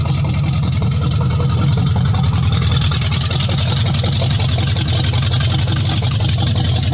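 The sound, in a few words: 454 big-block engine idling, warming up in 1982 Chevy Impala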